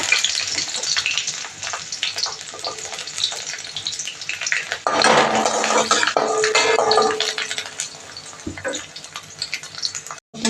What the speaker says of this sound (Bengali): এর মধ্যে রসুনগুলো ভেজে নেব।